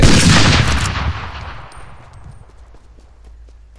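A single booming hunting rifle shot in a video game with animal hunting, loud at the start and then a long rumbling tail that fades over a few seconds.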